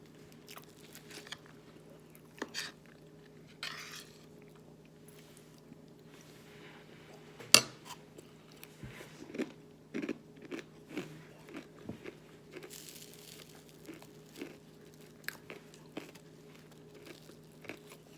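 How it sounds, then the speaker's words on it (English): Someone eating a homemade breakfast of potatoes, bacon and chorizo, with close, quiet bites, crunches and wet chewing scattered irregularly over a faint steady hum. "I'm all eating potatoes and bacon and chorizo"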